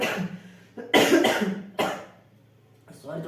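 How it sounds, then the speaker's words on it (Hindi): A person coughs several times in close, harsh bursts separated by brief pauses, loud and near. "सॉरी थोड़ी खांसी हो चुकी है"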